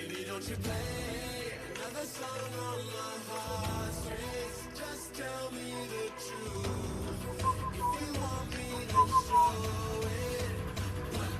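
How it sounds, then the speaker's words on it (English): A person whistles a tune steadily over a continuous bed of background music and game sounds during a live gaming match, the whistle close and clear but blended into the mix. "So I'm just whistling in everyone's ears."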